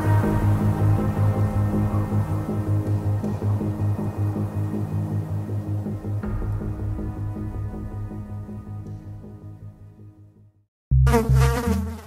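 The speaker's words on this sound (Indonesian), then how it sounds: "kurang lengkap rasanya kalau kita membahas sayap, tapi tidak membahas sahabat kita yang satu ini, lalat" Housefly buzzing loudly and continuously in close-up, a steady droning hum with wingbeat texture that fades out near the end before a brief loud burst returns.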